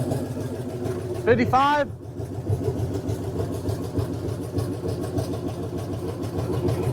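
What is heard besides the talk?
truck's new engine revving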